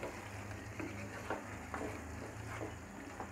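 Beef fries in a pan with a soft, steady sizzle, and a spoon scrapes and stirs it in several brief strokes, all fairly quiet and close.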